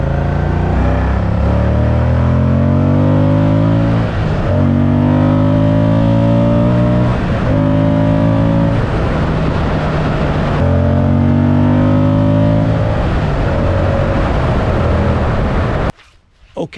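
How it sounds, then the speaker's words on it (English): A Moto Guzzi V100 motorcycle engine revs repeatedly, its pitch climbing and dropping in several loud, close surges, then cuts off abruptly near the end. "the beautiful engine, the way that the engine develops its power and the sound it makes."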